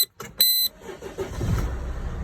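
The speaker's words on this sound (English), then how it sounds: "we'll start the engine up and see how we go" A Mercedes Vito W639 van sounds a few sharp electronic beeps, then its engine cranks and catches, settling into a low, steady idle close by.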